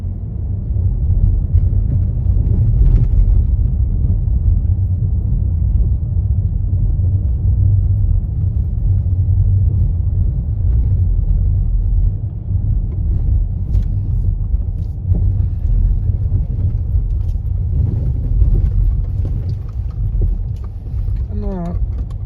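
Car driving through a Kyiv city street on a driving-test route, a steady low road rumble and engine drone throughout, with a voice talking over it.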